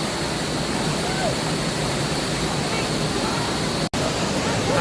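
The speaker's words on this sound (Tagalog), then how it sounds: "Ito yung Sprite Falls" Sprite Falls in Majayjay, Laguna roars as a loud, steady broadband rush of falling water, close and unbroken apart from a momentary dropout.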